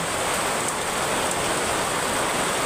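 Steady rain falls in Bicol, a dense, even hiss of drops that stays constant throughout without pauses or voices.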